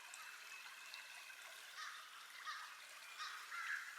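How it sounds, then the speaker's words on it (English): In hardwood woods in Georgia, crows caw faintly and far off in scattered calls over a soft, steady background hiss. "the crows might be trying to tell me where"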